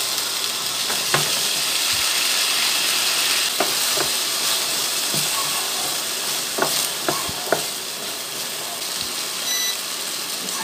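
Potatoes stir-fry in oil for beef kaldereta, a continuous close sizzle punctuated by scattered light clicks and scrapes of a utensil against the pan, with no voices.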